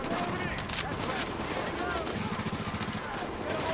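Gunfire, including shotgun blasts, crackles in rapid repeated bursts during a firefight in the video game The Division, with voices talking over the shots.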